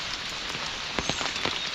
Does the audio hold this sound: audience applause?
no